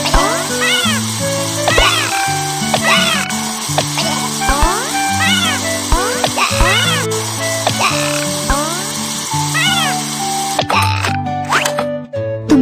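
Repeated short meows from a stray kitten in a Baby Bus game, over a steady, looping game-style musical background, with plopping effects scattered throughout.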